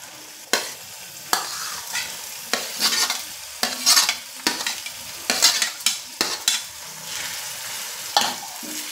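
Onion, chilies, ginger and garlic sauté in oil, with a spoon scraping and stirring in repeated short bursts over a soft, crackling sizzle, close up and with no talking.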